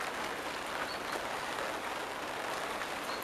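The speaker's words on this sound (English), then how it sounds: "It's some very heavy rain this morning." Dense, steady hiss of heavy rain pouring down nearby, an even wash of patter with no pauses or voices.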